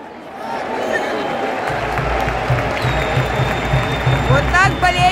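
Football fans at a gathering with Sergei Rebrov, coach of UAE champions Al Ain, make a dense, steady crowd roar with applause and cheering, loud and continuous throughout, with voices mixed in.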